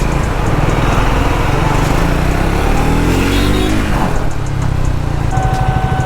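A Triumph Speed 400 motorcycle engine hums loudly and steadily while riding through a busy city, its pitch rising as revs climb before the next gear, with wind and traffic noise mixed in.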